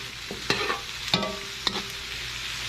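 Bell peppers stirred in a hot pan for goat stew, a few distinct scraping clacks of a utensil against the pan over a faint sizzle.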